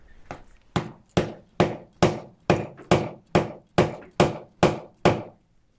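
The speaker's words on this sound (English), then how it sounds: "now hitting that in has meant that the prongs on the drive spur have gone into the wood" A wooden mallet strikes a lathe drive spur into a wood blank eleven times in a steady rhythm, each blow a sharp, close, solid knock with a short decay.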